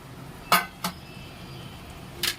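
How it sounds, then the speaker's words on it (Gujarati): A few sharp metallic clinks of a spoon against a pan while mixing turmeric and coriander-cumin powder for a potato curry, three taps spaced apart over a quiet background. "બધું આપણે સરસ મજાનું મિક્સ કરી લેવાનું"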